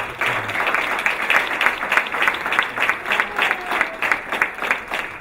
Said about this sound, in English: So let's give a round of applause also